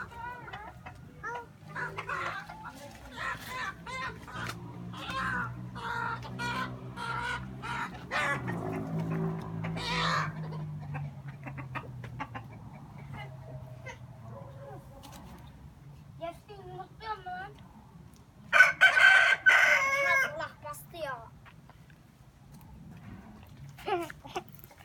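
Chickens and a rooster in a Turkish village, with faint clucking and a short burst of fowl calls near the end, mixed with children's voices talking and shouting throughout.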